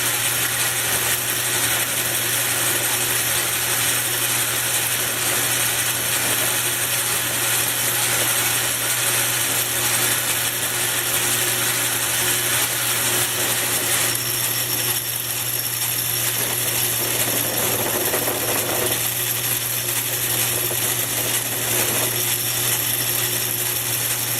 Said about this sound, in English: For my finished pass, I'm going to use a high-speed steel bit that I sharpened with a small radius on it to go up against that shoulder.